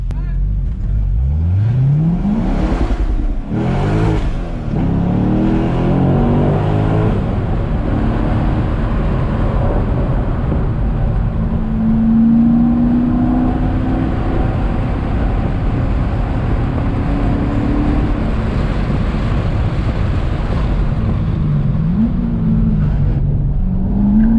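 Race cars driving laps at Buttonwillow Raceway, a loud continuous engine roar with rising revs early on and sustained drone as cars pass, carrying on without a break for over twenty seconds.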